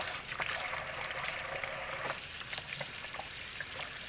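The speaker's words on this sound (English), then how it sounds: "I'm gonna drain off the water" Water drains off raw shrimp in a continuous, close-up watery rush and trickle, steady throughout with no talking.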